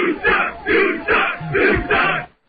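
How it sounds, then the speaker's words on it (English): A rowdy Hooters crowd chants for Al Dukes in five loud, rhythmic shouted bursts with short gaps between them, ending abruptly. "that was the Hooters crowd chanting for Al Dukes"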